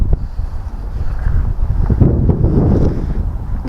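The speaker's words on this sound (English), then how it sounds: "Wind's blowing all the way down there, peg for peg, so it's going to be a tough match." Wind gusts across an open fishery pond during a fishing match, a steady, loud rumble buffeting the microphone throughout with no voices.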